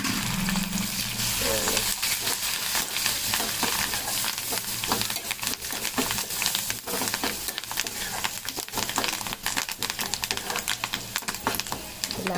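Pulihora rice with turmeric and curry leaves being mixed in a hot pan, a continuous sizzle with repeated stirring scrapes and clatter, a voice talking over it.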